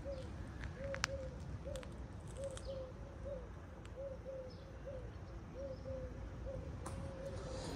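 Turtle doves coo in a steady repeated rhythm at a Turkish beach hotel in Oludeniz, soft two-note calls recurring every half second or so over a constant low background hum, with a few faint chirps from other birds.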